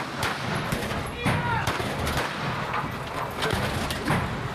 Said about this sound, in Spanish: finalmente se da un tiroteo, un enfrentamiento armado